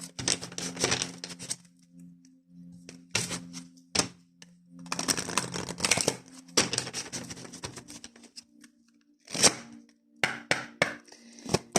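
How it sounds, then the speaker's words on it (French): Oracle cards being shuffled and drawn for a reading, with bursts of dry riffling and flicking in several close clusters separated by short quiet gaps, with no talking. "Allez, on va faire le tirage avec l'oracle de l'âme intuitive de Lisa Williams."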